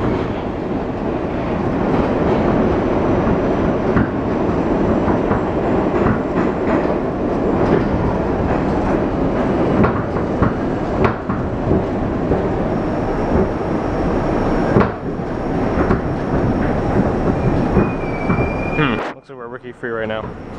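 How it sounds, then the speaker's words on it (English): Steady rumble of a moving train heard from inside a carriage, with clickety-clack wheel rhythm, brief squeals and some voices in the background, dropping off sharply near the end. "This is how we tell if we're on the same train or not"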